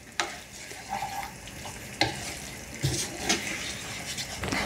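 Water and a spoonful of butter go into a sizzling masala gravy in a pan, bringing a crackling fry hiss with stirring scrapes and bursts of splashing.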